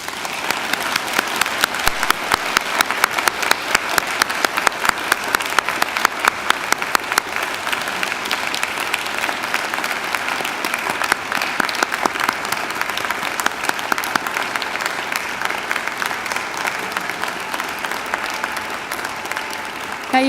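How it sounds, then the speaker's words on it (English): University graduates at a Macquarie ceremony turn to face their families and friends and clap, a broad, even wash of crowd applause that holds steady throughout without fading. "give them a mighty round of applause"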